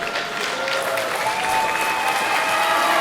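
Steady, dense applause from a wrestling show audience fills the whole stretch, holding at an even loud level and swelling slightly toward the end.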